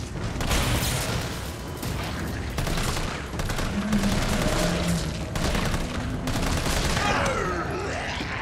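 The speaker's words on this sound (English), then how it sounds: "having a machine gun for this is definitely great" Sustained rapid machine-gun fire from Resident Evil 3 Remake, dense continuous bursts with brief gaps, loud and close throughout.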